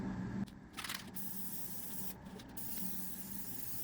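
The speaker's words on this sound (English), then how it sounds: "we need to spray glue everywhere" Spray glue hisses from a can onto foam in a TR250 seat during leather cover installation, coming in a few short, faint bursts against a low background hum.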